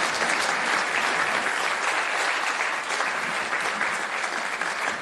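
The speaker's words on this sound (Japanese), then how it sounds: "盛大な拍手をお願いいたします。" A hall audience at a Kansai Press Club debate on the Osaka Metropolis Plan gives the four panelists a long, dense, even round of applause, loud and sustained throughout.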